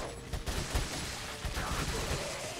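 Gunfire from Resident Evil 4 on PS4: a quick cluster of shots in the first second, followed by a steady rattle of game action, moderately loud with no talking.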